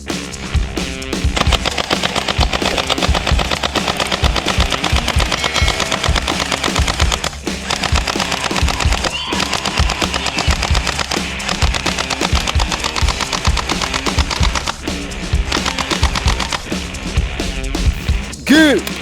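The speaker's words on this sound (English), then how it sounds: "AK47, submachine gun." Video game AK47 submachine gun firing in long rapid bursts, loud and close, with steady rhythmic shots broken by brief pauses and a voice talking over it.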